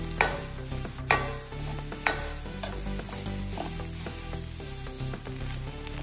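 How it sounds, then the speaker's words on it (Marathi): Coriander and masala for crab masala roast in a pan, with a steady sizzle and repeated scraping stirs and clinks of a spoon against the metal, loud and close with no talking. "थोडीशी भितर हांव ओली कोथमीर घालता। सगळे बरे भाजून घेवपाक जाय।"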